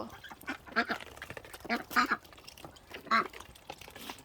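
Ducks kept for eggs quack in a series of nasal, evenly spaced calls, moderately close and fairly quiet, with low background noise between them.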